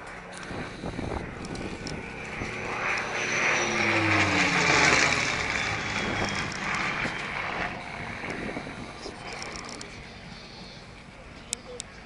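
BBMF Spitfire AB 910, Battle of Britain Memorial Flight, flying past with its Merlin engine, the roar swelling from a distance to a loud peak then fading, with wind buffeting the microphone and an announcer speaking over it.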